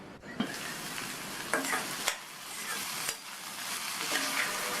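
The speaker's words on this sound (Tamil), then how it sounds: "புடலங்காய் வெந்துட்டு இருக்கும்போது இடையில அப்பப்போ திறந்து பார்த்து கிண்டி விட்டுக்கணும்" Snake gourd cooking in a covered pan is stirred with a spoon: a soft, continuous sizzle with several sharp scraping clacks of the utensil against the pan, fairly quiet and close.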